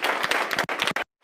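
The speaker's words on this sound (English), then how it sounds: "let's give them all a round of applause" A short burst of applause from the audience at a district Democratic candidate forum, with close, uneven claps that stop abruptly before a brief final clap.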